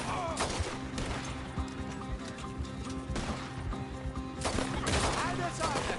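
Gunshots in a Red Dead Redemption 2 shootout, several sharp cracks spaced a second or two apart amid horse hooves and game noise, with voices talking in between.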